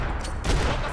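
Rapid gunfire from the Max Payne 3 video game, a dense one-second burst of overlapping shots with no clear gaps, loud and close.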